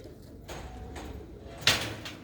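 Kept pigeons coo softly in a backyard coop, a low murmur under room noise, broken near the end by a sharp knock or sliding-door clatter close by.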